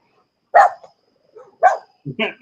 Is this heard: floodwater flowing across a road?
no